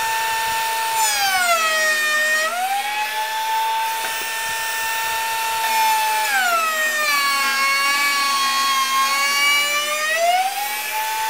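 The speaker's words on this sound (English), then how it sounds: "plug in our router table" Router table cutting a wooden sample piece with a bevel rail bit, a loud steady high-pitched motor whine whose pitch dips and recovers each time the wood is fed through, close and continuous with no talking.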